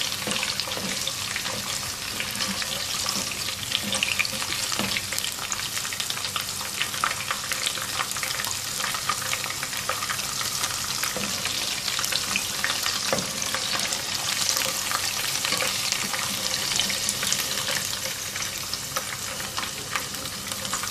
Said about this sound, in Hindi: इसमें तकरीबन 15-20 बादाम डालेंगे छिले हुए और उनको हल्का सा फ्राई करेंगे